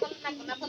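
A pigeon gives a brief, soft, close coo in a short, quiet moment.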